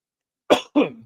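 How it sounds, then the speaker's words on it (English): Two sharp coughs in quick succession, close and fairly loud, after a moment of silence. "I'm struggling here with a cough."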